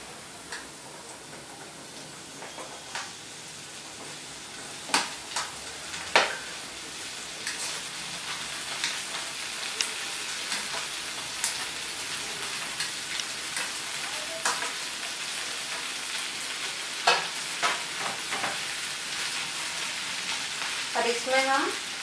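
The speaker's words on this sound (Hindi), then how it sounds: "अब इसमें हम भिंडी डाल देंगे।" Okra fries in oil in a pan with light-brown onions while it is stirred, producing a constant soft sizzle broken by sharp scraping and clinking taps of the spoon against the pan, close and moderately quiet.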